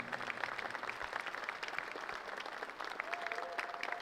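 Audience applause for horses and their trainers at an equestrian riding event, a steady dense patter of clapping held at even loudness for the whole stretch, with faint crowd murmur beneath.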